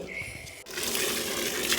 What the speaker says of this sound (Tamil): நான் செடிக்கெல்லாம் அப்படியே கொஞ்சம் தண்ணி விடலான்னு சொல்லி விட்டுட்டுருந்தேன்